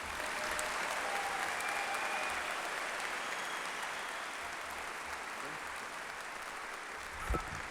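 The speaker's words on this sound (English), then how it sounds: "Let's go ahead and give this group another round of applause." Sustained applause from a large audience at a high school graduation ceremony, dense steady clapping filling the hall for several seconds, with a brief louder burst near the end.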